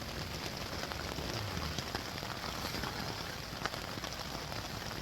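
Heavy rain beats on a tent at a night stealth camp in a dense, unbroken patter that stays steady and close throughout, with no voices.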